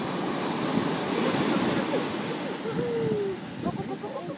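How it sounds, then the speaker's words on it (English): Ocean surf at Newport Beach, California, a steady, loud roar of breaking waves and washing water with wind noise close to the microphone. "and then the waves go back down"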